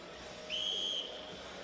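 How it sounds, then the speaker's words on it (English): A referee's seconds-out whistle at a professional boxing bout sounds as one short, clear, steady tone lasting about half a second over quiet arena background. "Just heard the seconds out whistle."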